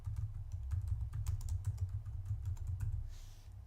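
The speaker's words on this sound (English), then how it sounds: "I will type in Service Catalog." Keys clatter in quick, uneven bursts on a computer keyboard as a search phrase is typed into a software portal's search box, with a low steady hum underneath and no talking.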